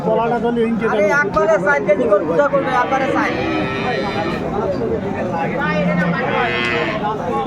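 Cows moo repeatedly at a busy cattle market where calves and cows are sold, the lowing calls standing out over constant nearby chatter and crowd babble.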